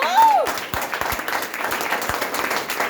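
A small group claps steadily and close by for a few seconds, a brief rising whistle-like tone sounding at the start, with voices talking underneath.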